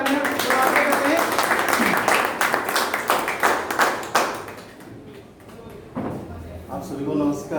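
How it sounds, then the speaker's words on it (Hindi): An audience at a business event claps for a few seconds, loud at first and then thinning out into scattered claps. Speech follows over a quieter room. "एक बार जोरदार तालियां करते हैं"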